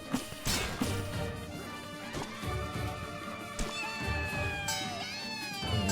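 Cartoon cats in the video game Burrito Bison: Launcha Libre, with meows and cat cries mixed with smacks, crashes and bright game sound effects in a busy, continuous stream.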